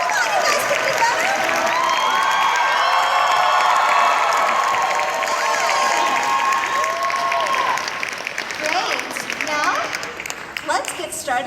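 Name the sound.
audience applause and cheering after a movie premiere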